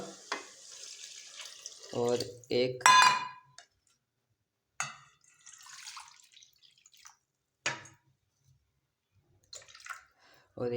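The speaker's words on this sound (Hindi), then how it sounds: "ये देखें अब हम पानी डाल देंगे, पानी ऐड कर देंगे" Water is poured into a cooking pot of vegetable pulao with potatoes and peas, splashing briefly alongside clinks of utensils, while a person speaks intermittently between quiet pauses.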